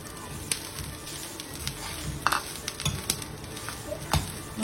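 Coconut and other ingredients frying in a pan for traditional Sampangi Pitlai: a low, uneven crackle and sizzle with scattered scrapes and clinks of stirring, moderately close.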